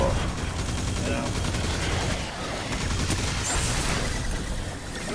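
Rapid SMG fire in Destiny, played as a Warlock, crackles in dense continuous bursts with game effects, and a voice talks over the shooting.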